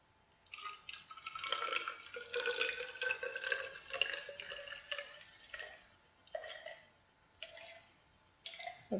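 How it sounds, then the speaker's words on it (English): Water poured from a cup into a graduated cylinder, measuring out 50 milliliters; a close, trickling pour with splashy bursts that pause and restart in short spurts toward the end. "I'm just going to use this cup to pour in 50 milliliters."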